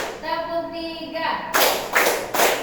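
A group of participants at a teacher training session claps three times in rhythm after a spoken count, with sharp, loud bursts in the second half after a tonal voice passage.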